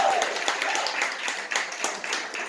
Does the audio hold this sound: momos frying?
no